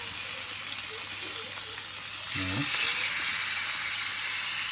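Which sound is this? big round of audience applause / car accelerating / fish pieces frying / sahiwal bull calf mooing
fish pieces frying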